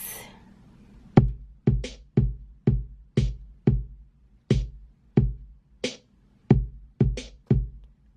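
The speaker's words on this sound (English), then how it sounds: "kick and the snare" A bare drum pattern of kick and snare in a 3+3+2 rhythm, with sharp, punchy hits repeating evenly, clear and alone with no voices.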